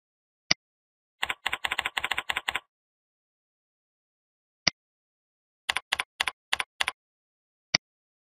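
Keys clack on a computer keyboard while a username and password are entered, in two quick bursts of close, crisp taps with a few isolated single keystrokes between them, no voices.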